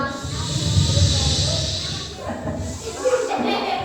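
A storyteller's voice imitates a snake's hiss, a sustained loud breathy hiss lasting about two seconds, followed by her speaking.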